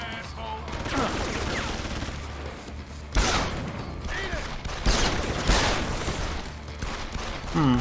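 Gunfire from a Deus Ex: Human Revolution firefight crackles in repeated bursts, with several sharp loud shots standing out over a busy mix of combat noise and effects.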